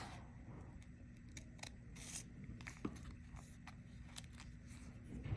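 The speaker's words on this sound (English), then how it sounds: "So I'm just gonna cut through my letter to cut that part out." Scissors cut through paper for a radial snowflake art project, giving quiet, close, repeated snips and scrapes at an irregular pace.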